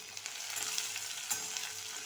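Spices, green chillies and potato for a vegetable masala pulao fry in hot oil with a steady close sizzle and occasional stirring clicks, no voices.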